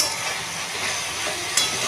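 Potato and coconut fry in a pan with a soft, even sizzle and hiss, close and continuous, with a small clink near the end and no voices.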